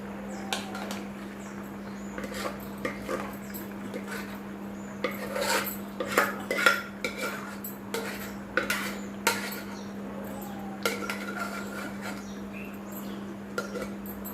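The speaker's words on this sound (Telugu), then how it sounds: "పప్పు వేసాం కదా ఇదంతా కలుపుకోవాలి" Cooked lentils are mixed into a pot with drumstick and mango pieces, heard as soft scraping and knocking strokes of a ladle against the metal pot in an irregular rhythm over a steady low hum, no voices.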